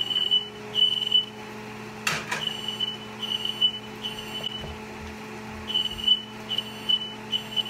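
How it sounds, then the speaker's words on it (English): A kitchen smoke alarm, set off while making grilled cheese and soup in a bread bowl, chirps in repeated shrill high-pitched beeps, with a clatter partway through and a steady hum underneath. "I forgot to turn the fan on, and I set off the alarm"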